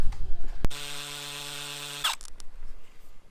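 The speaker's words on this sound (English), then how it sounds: "Back to drilling holes." A power drill boring holes into concrete while a vinyl railing is being installed: a sharp click, then a steady high whine of about one and a half seconds that cuts off abruptly, followed by faint rustling.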